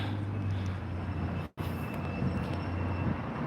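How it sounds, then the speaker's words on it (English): An airplane taking off from San Bernardino gives a faint, distant steady roar. It drops out briefly midway, then resumes at the same low level. "There's an airplane taking off from San Bernardino."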